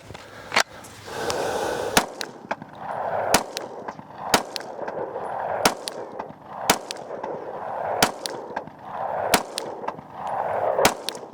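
Pistol shots from a Rost Martin RM1C, fired one at a time in a slow, steady string of sharp, loud cracks about a second apart, each followed by a short echo on an outdoor range.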